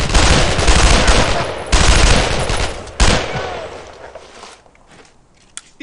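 Loud, close bursts of automatic gunfire from a World War II shooter game roll in three heavy waves, then fade to a few scattered distant shots.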